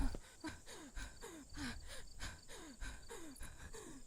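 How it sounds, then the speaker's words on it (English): A character in the horror video game Remothered: Tormented Fathers pants in a quiet, steady rhythm of short breaths, each about half a second apart. "Oh yes, panting."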